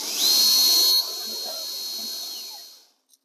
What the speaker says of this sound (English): Now I'll just use my drill with a 1/4 inch bit to do the rest of the work.